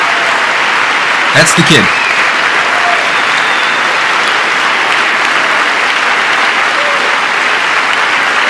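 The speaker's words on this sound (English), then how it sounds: "Bunch of people giving a standing ovation." A large audience claps steadily through a standing ovation, a dense wash of applause that fills the whole stretch, with a brief voice spoken over it near the start.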